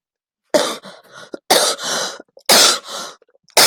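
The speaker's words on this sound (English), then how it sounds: "Excuse my cough here." Three loud, harsh coughing fits in quick succession, each a burst of rough hacking close to the listener, separated by short silences.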